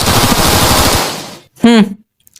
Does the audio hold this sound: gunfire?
yes